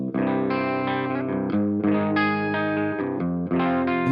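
Distorted electric guitar chords ring out loud and full through a speaker cabinet, several sustained strums changing every second or so.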